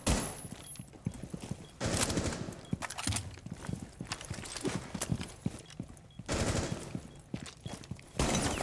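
Rainbow Six Siege gunfight, rapid bursts of automatic weapon fire and clattering shots in quick succession, loud and close, with game sounds between bursts.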